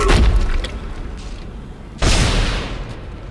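Heavy weapon blasts in the Dead Space sci-fi horror game, Impossible Mode: two booming shots, one at the start and a second sharp burst about two seconds later, each with a long rumbling tail.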